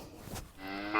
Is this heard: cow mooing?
yes